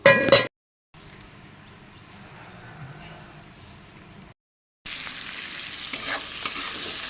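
Prawns and onion frying in a pan with kalonji and green chilies make a sizzling, stirring sound broken by two short silent gaps, louder and brighter after the second gap.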